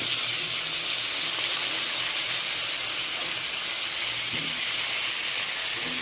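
Potatoes frying in hot oil tempered with black cumin and green chilli, a steady close hiss and sizzle running unbroken throughout with faint low bubbling beneath.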